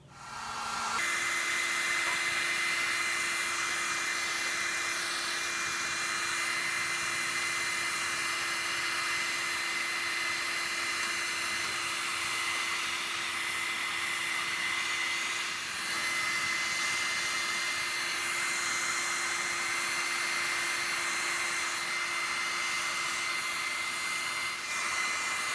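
Heat gun blowing hot air onto plastic pieces to soften them for bending on a DIY car rear diffuser, a steady loud whooshing hum held nearly unbroken for the whole stretch with no talk.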